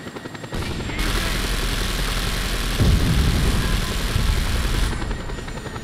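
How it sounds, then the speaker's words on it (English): A Just Cause 2 video game helicopter's rotor thrums loudly and steadily from start to finish, swelling slightly in the middle. "I need a helicopter."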